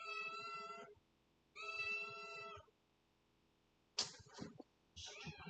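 A cat meows repeatedly, with two long drawn-out harmonic calls followed by two shorter, sharper meows, fairly close and clear with quiet gaps between them.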